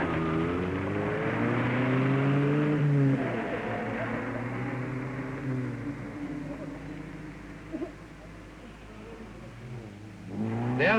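A 1962 Rootes Group Sunbeam rally car setting out on the Saint-Aubin special stage, its engine revving and pulling away, fading into the distance, with a loud burst of revving returning at the end.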